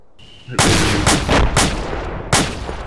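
Loud explosive blasts of RPG fire in the game ArmA 2 in quick succession, several booming shots with a sustained rumble between them.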